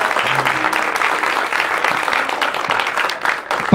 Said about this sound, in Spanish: Un aplauso a todos mis compañeros que me hicieron caso de esta pequeña locura.